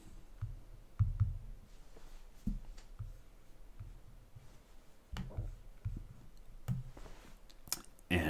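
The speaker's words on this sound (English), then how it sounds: "I'm going to double click on the package." A computer mouse is clicked repeatedly while software is installed, giving sharp, close, faint clicks, some in quick pairs, scattered over a quiet room background with no talking.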